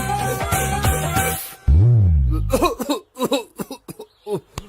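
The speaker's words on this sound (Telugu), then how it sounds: "ఈ దగ్గు నా దగ్గర దగ్గేవు కాబట్టి సరిపోయింది" A man coughs harshly after smoking a cigarette, a loud burst of several rough coughs followed by a few shorter, laugh-like hacks, with tonal music fading out just before.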